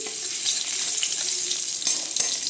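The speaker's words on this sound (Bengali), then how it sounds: "এই একটুখানি পটপট করে যে একটু উঠবে" Crushed cardamom fries in hot oil in a wok, giving a steady, fairly loud hissing sizzle with a few faint pops.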